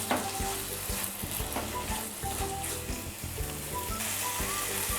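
Macaroni sizzles in a hot pan while being stirred with black pepper, a steady loud frying crackle with scraping stir strokes throughout, no voices.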